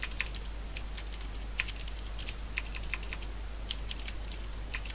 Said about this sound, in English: I am really bad at typing right now.